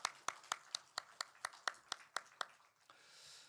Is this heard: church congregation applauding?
yes